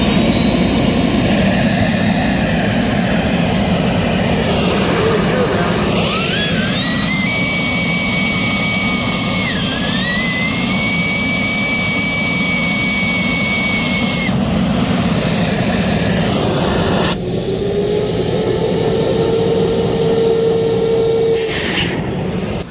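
Two Canavac vacuum motors running in parallel for an airflow test roar continuously at close range. The loud, jet-like whine shifts in pitch and tone several times, with no voices.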